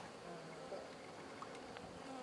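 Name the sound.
honeybees buzzing at a hive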